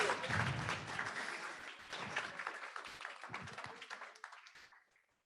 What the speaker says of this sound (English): So if you want to give him a round of applause.